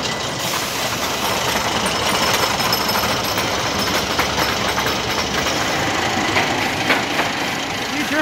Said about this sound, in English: they just turned the lift motor back on